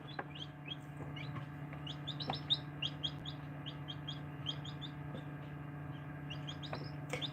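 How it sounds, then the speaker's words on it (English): Many baby chicks peep in quick, high, overlapping chirps over a steady low electrical hum, fairly faint and continuous. "Hopefully you can hear the little chirping."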